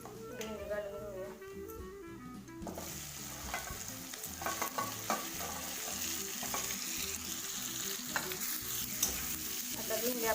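Whole okra frying in hot oil with cumin, curry leaves and turmeric for a desi-style masala bhendi: a steady, dense sizzle with stirring scrapes that grows fuller after a brief tonal passage at the start.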